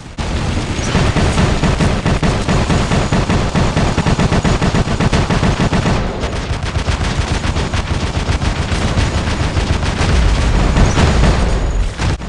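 Machine gun fire in a solo video game, with dense sustained bursts of rapid shots and booming impacts that stay loud and continuous throughout, with only a brief dip midway.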